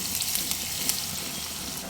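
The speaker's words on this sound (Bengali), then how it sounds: "কুচিয়ে রাখা পেঁয়াজগুলো সব দিয়ে দেব পেঁয়াজ অনবরত নাড়াচাড়া করে নিয়ে হালকা ভেজে নেব" Chopped onions fry in hot oil in a pan for a country chicken curry with new potatoes, a steady close hiss and crackle with faint stirring scrapes throughout.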